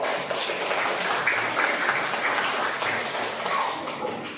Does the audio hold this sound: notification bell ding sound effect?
no